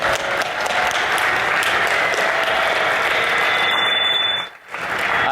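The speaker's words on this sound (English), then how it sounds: "please give him a warm round of applause" Audience applause for a speaker at a security conference talk on cloning contactless payment devices, a dense, steady wash of many hands clapping that holds loudly for about four seconds before cutting off abruptly.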